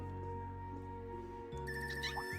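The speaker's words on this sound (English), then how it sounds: "There's a new ringtone for you." A phone ringtone plays in the Trails of Cold Steel III video game, a steady electronic tone over a game soundscape, shifting to a brighter chiming melody partway through. No one speaks.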